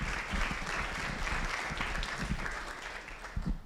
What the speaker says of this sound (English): give a round of applause and welcome Zach Boozy Cruz here with us today